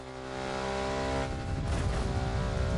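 BMW R1200 GS motorcycle engine running off-road in The Crew Motorfest, a steady harmonic drone that swells louder and rougher after the first second, with gritty low rumble from dirt riding, near and continuous with no talk.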